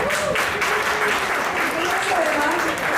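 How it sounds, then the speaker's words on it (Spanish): Audience at a Venezuelan women entrepreneurs' forum breaks into steady, dense applause that fills the room throughout, with voices faintly mixed in underneath. "un aplauso para ustedes"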